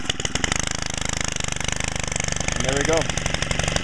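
A Stihl FS90R gas string trimmer, muffler screen removed, fires up from a cold start and runs with a loud, steady, rapidly pulsing two-stroke buzz that swells slightly near the end, with a brief spoken remark over it.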